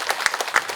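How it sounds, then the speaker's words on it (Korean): A brief burst of applause at an academic conference, many hands clapping in a quick, dense patter. "열띤 토론을 해주신 연구원님께 풍성한 박수 부탁드립니다."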